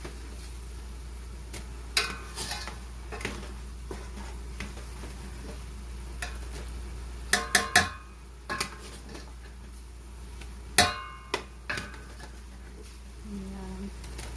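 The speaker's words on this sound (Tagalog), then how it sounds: "Kailangan siyang haluin kasi didikit siya dyan at saka masunog na siya" Food is stirred in a pan to keep it from sticking, sparse scraping and clinking of utensil against metal in a few close bursts over a soft steady hum and faint sizzle.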